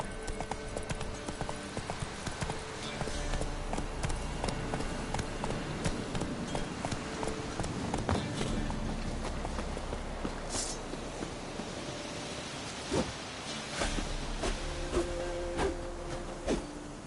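Horse Roach galloping in The Witcher 3, steady rhythmic clip-clop of hooves on ground, close and continuous, with faint ambient game sounds in the background.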